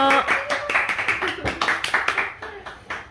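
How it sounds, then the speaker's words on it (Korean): An audience at a late-night bookshop talk claps to welcome a lecturer, a quick run of fairly close handclaps that continues steadily before tapering off, with a voice briefly audible at the start. "박수로 환영해 주십시오"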